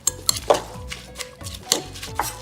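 Khmer raw beef salad being mixed by hand or with a utensil: a run of close, sharp clicks and soft wet scrapes in an uneven rhythm, with no talking.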